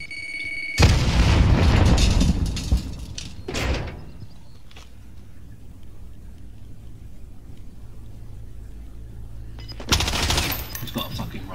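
A grenade explodes in a video game, a loud close blast with a booming tail, followed by quieter game ambience and a second burst of noise near the end.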